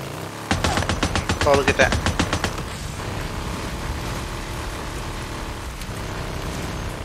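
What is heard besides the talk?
sniper gunfire in the video game Days Gone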